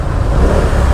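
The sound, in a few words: road traffic noise in a traffic jam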